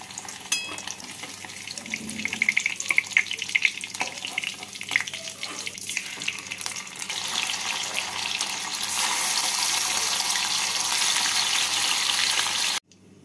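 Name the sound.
paneer cubes frying in oil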